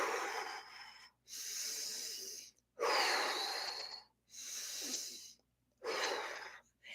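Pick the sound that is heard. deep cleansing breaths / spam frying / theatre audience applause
deep cleansing breaths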